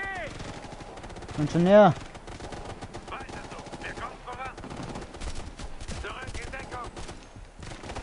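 Light machine gun fire in Ghost Recon: Future Soldier, a rapid rattling stream of shots with ongoing gunfire and shouted voices throughout and one brief louder cry cutting in.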